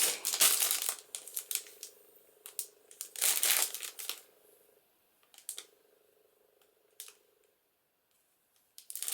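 A thin tissue layer peeled from a paper napkin, with close, crisp crinkling and rustling in short bursts separated by quiet pauses.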